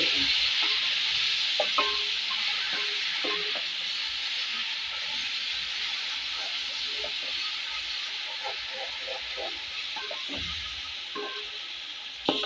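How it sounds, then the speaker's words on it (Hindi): Ginger garlic paste sizzles steadily in a hot pan, a broad close hiss with occasional stirring scrapes and clinks, mostly alone with faint background sounds. "थोड़ा सा भून लेते हैं"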